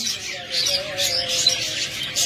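Pet budgerigars, cockatiels or lovebirds squawking at a bird stall, with repeated harsh, bright calls close by and steady chatter from several birds overlapping throughout.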